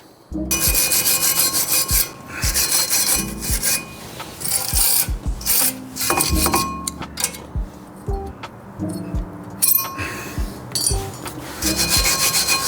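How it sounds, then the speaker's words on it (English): Scrubbing a Toyota 86 brake caliper mounting bracket clean with a brush, loud rapid rasping strokes in bursts with short pauses and occasional clinks. "So after that, we're going to clean this brake caliper mounting bracket."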